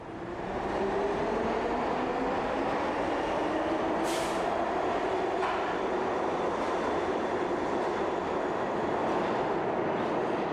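A New York City subway train rumbles steadily at speed underground, a loud continuous roar with faint rising wheel whine and a brief hiss partway through.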